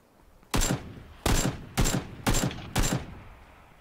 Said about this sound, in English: Were you shooting it?